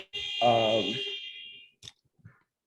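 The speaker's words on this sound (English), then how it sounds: "But no, that was the buzzer." A gym buzzer sounds as one loud, steady electronic tone lasting nearly two seconds, with a voice talking over its middle before it cuts off.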